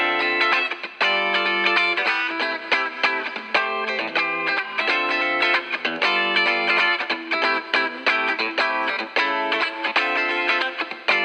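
Tight, distorted electric guitars playing chopped, rhythmic chords through a reverb plugin, loud and close with short gaps between stabs and a faint ambient tail, no talk.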